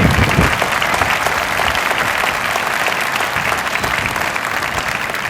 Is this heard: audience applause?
yes